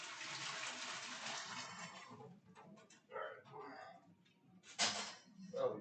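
Kitchen tap running, a steady hiss of water for about two seconds that then stops, followed by scattered clatter and a short second burst of water.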